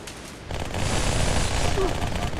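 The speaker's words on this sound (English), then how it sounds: "Oh, good team shooting." Rapid gunfire in the video game Halo 2 during a team firefight, a dense, continuous burst of shots that starts after a brief quieter lead-in and keeps going to the end.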